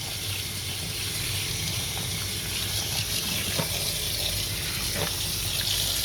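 Running tap water pours steadily while a tie-dyed shirt is rinsed beneath it, a continuous close gushing wash with faint shifts as the fabric moves, no voices.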